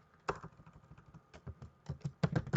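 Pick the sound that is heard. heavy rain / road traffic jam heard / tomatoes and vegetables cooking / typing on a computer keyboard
typing on a computer keyboard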